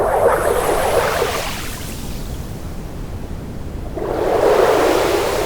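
Computer-generated bubbling water, broad noisy swells of bubbles that fade into a softer hiss in the middle and then rise again, steady and continuous with no voices.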